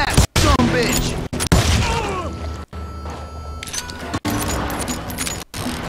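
Repeated gunshots from a Wild West shootout in Call of Juarez Gunslinger ring out loud and close in sharp bursts, separated by brief silent gaps, mixed with game sound effects and a speaking voice.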